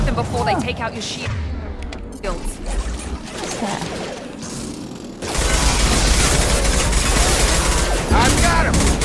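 Sustained gunfire from a Mass Effect firefight on Virmire at Insanity difficulty, a steady dense barrage of shots and impacts that grows louder and heavier partway through, with someone talking over the combat.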